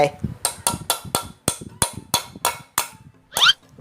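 Sharp metallic hammer blows drive a bearing into a Honda La/Dash 125 engine case, about a dozen evenly spaced strikes, close and loud, with a brief scrape at the end.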